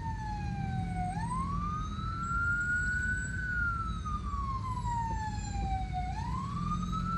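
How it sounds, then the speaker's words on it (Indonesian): A wailing ambulance siren rises and falls in long sweeps, loud and continuous over a low rumble of jammed traffic on the road from Padang Panjang to Aie Angek. "Apakah ambulans?"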